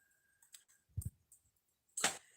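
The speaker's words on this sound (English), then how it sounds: "if I'm like typing on the little line that says to type" A handful of separate keystrokes on a computer keyboard, typed into a livestream chat box: sparse, close clicks with pauses between them and a louder burst near the end, with no talk.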